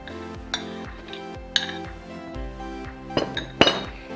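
Apple blueberry sauce spooned into a bowl: a series of light metallic clinks and taps of spoon against glass or dishware, spaced irregularly, with a few sharper knocks near the end.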